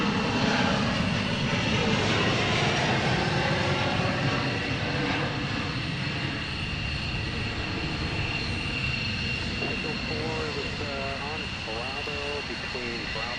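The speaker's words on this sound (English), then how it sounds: "There goes the Reno flight." Airliner taking off on the Reno flight at Portland International Airport, a steady loud engine roar sustained throughout with a wavering tone late on, while a voice talks over it.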